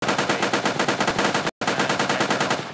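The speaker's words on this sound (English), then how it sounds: "I love the ricochet." Rapid automatic weapon fire in an Unreal Engine 4 game, loud and close, with steady bursts of shots and ricochet tails, briefly cut by a short gap before the firing resumes.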